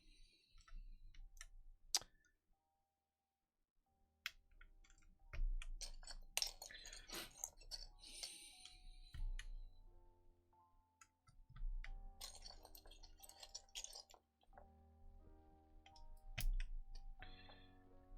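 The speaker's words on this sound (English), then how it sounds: "Let's get the rest of these keycaps in place." Plastic keycaps clicking and snapping onto a Kepler FC65 forged carbon fibre keyboard, a scattered run of sharp close clicks and taps separated by short pauses, with no talking.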